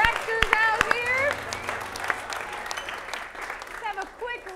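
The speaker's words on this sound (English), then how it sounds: "let's have a round of applause for the first act of all three" An improvised comedy show audience claps after the first act, the applause mixed with a host's amplified talk and fading unevenly over a few seconds.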